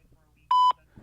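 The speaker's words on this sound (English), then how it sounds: "At the tone, please record your message." A single clean electronic beep from an answering machine signals the start of recording, sounding loud and brief for a fraction of a second against a quiet line.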